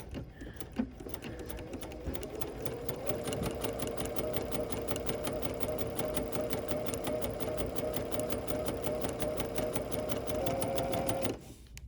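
A sewing machine runs steadily, stitching quilt block pieces at a 1/4 inch seam. A few handling clicks come first, then a continuous close, even mechanical whir holds for about ten seconds before stopping.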